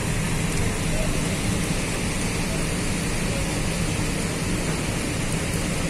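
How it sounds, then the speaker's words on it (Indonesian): Heavy rain pouring at Tegal railway station, a dense, steady roar of rainfall hitting surfaces that continues unbroken and loud throughout. "Kondisi masih hujan deras ya."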